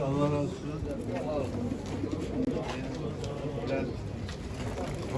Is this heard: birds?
yes